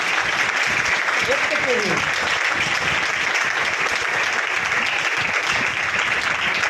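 Applause from a church congregation fills the space, a dense steady clatter of many hands held evenly throughout, with a voice speaking briefly over it.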